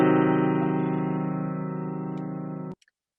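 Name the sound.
diminished triad chord played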